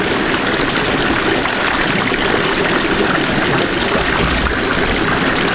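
Spring water pours steadily from the mountain spouts of Pancuran 7 on Mount Lawu, making a loud, dense, unbroken rush of splashing close by, with no talk.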